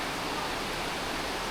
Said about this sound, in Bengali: এরকম বৃষ্টি হচ্ছে